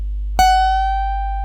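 A single electric guitar note is struck and bent up a half step, then sustained, ringing clear and close with a steady low hum underneath, in a Thai guitar solo lesson.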